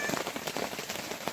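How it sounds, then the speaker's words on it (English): Steady, soaking rain patters on surfaces at a wilderness fishing camp in the Boundary Waters of northern Minnesota, a dense, close, even hiss of drops with no voices. "Rain's still falling."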